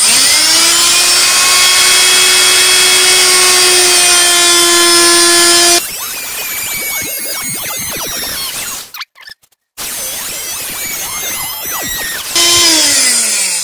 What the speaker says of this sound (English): So, noise alert. I'm going to do the plunge cuts first.